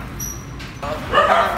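Phu Quoc dog puppies giving short yips and small barks, close by, mixed with whimpering and a person talking nearby.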